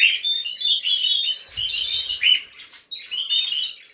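Pet birds chirp and squawk nonstop in a bird room, a dense chorus of high tweets and calls, close and lively, with a brief dip near the end before the chatter resumes.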